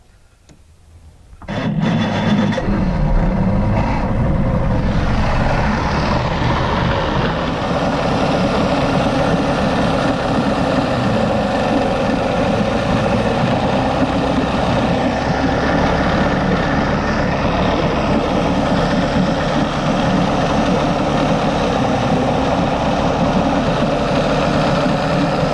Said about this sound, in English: Now once you got everything ready, you're going to start your engine.